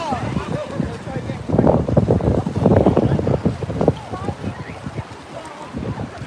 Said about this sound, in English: I know it's kind of windy out here.